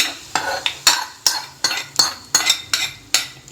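Fried onion being mixed into idli batter for bonda, a spoon striking and scraping a metal bowl in a rhythmic series of about eight or nine sharp clanks with wet squelches between, close and without speech.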